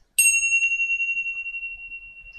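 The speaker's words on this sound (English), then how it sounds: "Begin by sounding the chimes." A single meditation chime is struck once, giving a clear bright ding that rings on and slowly fades over a couple of seconds in a quiet room.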